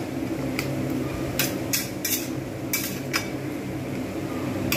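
Bitter gourd and prawn curry is stirred in a pan, with a spatula scraping and clinking against the metal in several sharp, irregular knocks over a soft steady background hiss.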